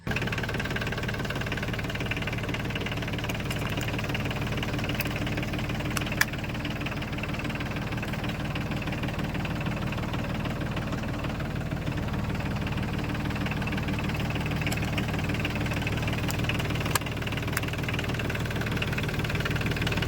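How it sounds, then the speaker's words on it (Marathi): A mini tractor engine runs steadily, rolling its wheel over a mobile phone placed beneath the tyre, giving a continuous low knocking idle with a few faint clicks, close and alone. "तुम्ही पाहू शकता ह्याच्यावरनं ट्रॅक्टर गेलेलं आहे"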